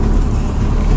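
A 1987 Itasca Phasar RV motorhome, still cold, pulls away in drive down an alley, a steady loud low engine rumble heard close and alone for about a second.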